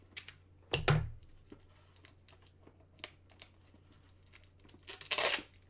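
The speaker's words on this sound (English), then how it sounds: "I probably should have rip that tape off first" Tape ripped off a full-size autographed baseball bat: a sharp tearing burst near the start, scattered small crinkles and clicks, then a longer rasping rip toward the end, close and fairly quiet.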